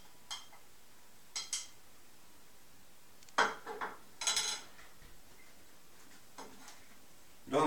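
Pieces of tuna drop into the plastic chopper bowl of a Philips Avance Collection HR1676/90 hand blender, giving a few scattered soft knocks and clicks, quiet and close.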